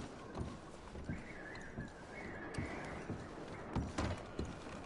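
Horse hooves clop in Red Dead Redemption 2 at an uneven walking pace, faint and somewhat distant under a steady outdoor ambience.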